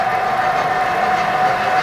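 A model train with baggage and passenger cars runs at a model railroad show, giving a steady, continuous rolling hum with a sustained tonal whine throughout, fairly loud and close, with no speech.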